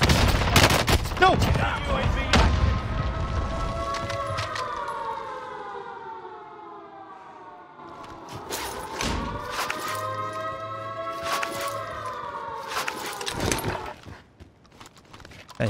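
Gunfire in Call of Duty on Rebirth Island cracks in sharp bursts over a wailing siren-like tone, loud and close, with some talk mixed in.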